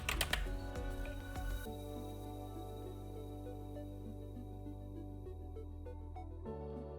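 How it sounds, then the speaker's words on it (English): Computer keyboard keys clatter in quick bursts while someone types code for an ArduPy library on a Wio Terminal. The clicks come thick at first, then thin to scattered taps over a steady background hum. "Then type these codes"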